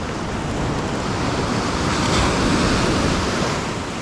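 Ocean surf rolls in on a beach as the tide goes out, a loud continuous wash of breaking waves with wind noise buffeting the microphone and no voices.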